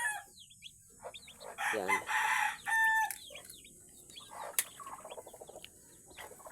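Newly hatched chicks peeping in bursts alongside clucking chickens, faint and close, with a brief louder stretch of calls in the middle and a single short spoken word.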